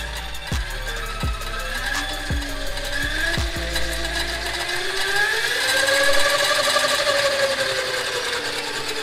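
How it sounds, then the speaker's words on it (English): A DIY electric motorcycle runs with a steady mechanical whir and light chain clatter, a few sharp ratcheting clicks early on, then a rising motor whine as it speeds up, close and continuous without talk. "Just a little bit of chain clatter, but other than that, she's very smooth."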